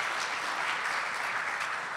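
An audience at a telecom industry conference breaks into brief, even applause that fills the room as a soft, continuous patter with no other sounds on top.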